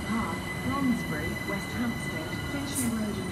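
A London Overground class 378 electric train pulls into Shepherd's Bush station, a low rolling rumble with faint wheel squeals beneath a loud platform public-address announcement.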